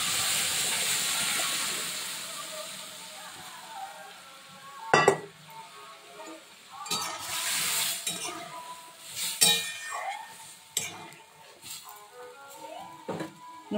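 Mung dal goes into hot oil with whole cumin, dried chillies and a bay leaf, making a hissing sizzle that settles down. Sharp clinks and scrapes of a spoon against the pan follow at close range.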